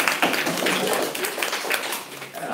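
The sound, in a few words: audience applause for the 10th graders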